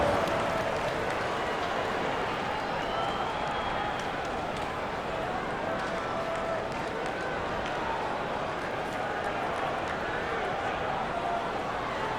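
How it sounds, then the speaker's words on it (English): Crowd noise in an NBA 2K basketball game late in the fourth quarter, a steady, dense wash of applause and arena cheering held at even loudness for the whole stretch, with faint whistle-like tones above it. "give them a round of applause."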